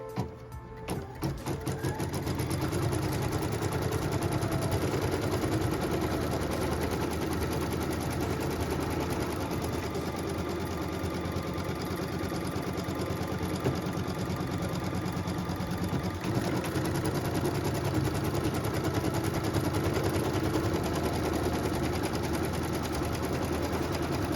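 An embroidery machine stitching a triangle filler quilt block, tacking down batting with a continuous rapid rattling hum, fairly quiet and steady throughout after a brief start.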